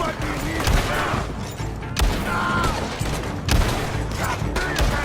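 Repeated bursts of mounted-gun fire in a Western-style shootout video game, a steady dense rattle with louder booming hits every second or so, close and loud, with scattered voices in the background.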